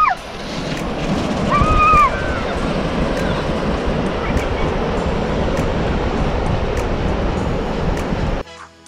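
Ocean surf breaks onto Cable Beach in Broome, Western Australia, a loud and continuous wash of waves mixed with wind noise, with a brief bird call near the start.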